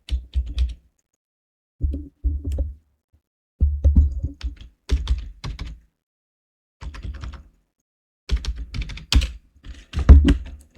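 Clattering keystrokes on a computer keyboard come in short bursts separated by pauses, close and fairly loud, with no voice over them.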